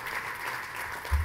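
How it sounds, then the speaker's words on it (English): Audience at an official launch event claps for a woman being honoured, a short burst of steady applause from many hands, with a low thump near the end. "Will you round of applause for this lady, please?"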